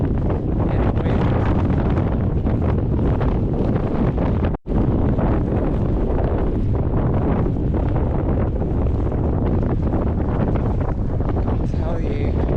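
Strong wind buffets the microphone on a night walk in the dark, a constant loud roar of gusting noise with no letup.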